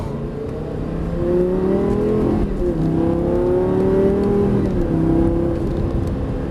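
A Lamborghini Gallardo LP 560 engine pulls hard after a gear change: a loud, close, continuous rising drone with shifting pitch steps, sustained for several seconds with no talking.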